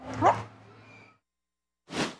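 A dog in a gated public pet park gives a short whining bark followed by a fading whimper, then after a brief pause another sharp bark, close and fairly loud.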